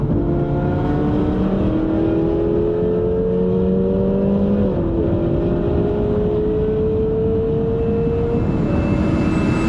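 Ferrari 458 Spider V8 exhaust with the windows down, a loud steady drone with gliding engine harmonics rising and shifting as the car accelerates and cruises, close and continuous with no talk.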